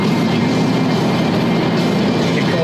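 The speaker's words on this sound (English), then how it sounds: "Back to boring steam train." Steam locomotive on the Settle–Carlisle line, a loud, steady broadband roar with a continuous rumble, close and unbroken throughout, no talk.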